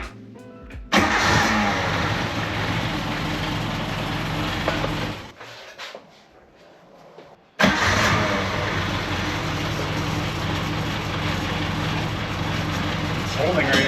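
A Suzuki Samurai on a one-ton build with full hydraulic steering, left sitting for two years, cranks and catches, then idles loudly and roughly; the engine cuts out briefly mid-run before firing up again and idling on.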